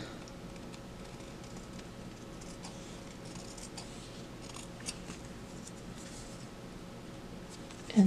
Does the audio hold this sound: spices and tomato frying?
no